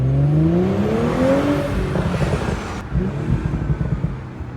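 An Audi RS3 engine revs hard and accelerates up through the gears, loud and close, with sharp crackling pops in the exhaust between shifts.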